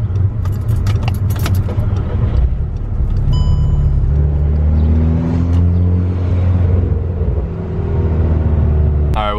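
A Volkswagen MK6 R that stalled and burns oil is restarted, keys jangle in the ignition, then the engine cranks and catches into a steady, loud close-up idle rumble with slight revving.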